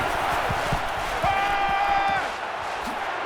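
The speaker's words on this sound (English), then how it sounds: "And this crowd is going absolutely crazy." A stadium crowd roars steadily in the NCAA 14 football game, Minnesota at Ohio State, a continuous broad wash of cheering with a whistle-like tone rising midway, while a commentator talks over it.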